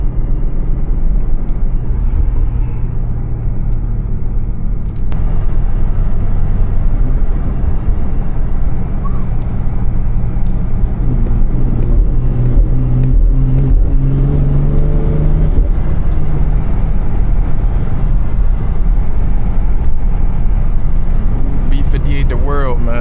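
A stage 2 BMW 340i drives and accelerates, its engine note rising in a steady low drone with a climbing tone in the middle, loud and close throughout, with a voice speaking over it.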